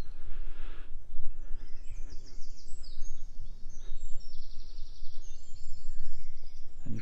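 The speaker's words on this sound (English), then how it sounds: "And you can always hear the birds." Birds sing and chirp in a quiet sanctuary garden under tall trees, with several high, bright calls overlapping across the whole stretch over a soft outdoor background and no talking.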